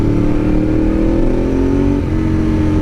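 An engine revs hard at close range, a loud sustained drone whose pitch climbs, drops briefly, then climbs again; the tags lean toward a car, though a motorcycle is possible.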